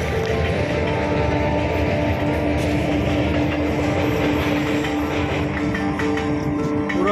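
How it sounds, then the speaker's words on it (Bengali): An empty passenger train on the Goghat–Arambagh line rolls past toward Arambagh station, a loud, steady rumble with rhythmic clickety-clack of wheels on rail joints and faint squeals. "খালি ট্রেনটা যাচ্ছে এখন, যে আরামবাগ স্টেশনে দাঁড়াবে গোঘাট থেকে যাচ্ছে"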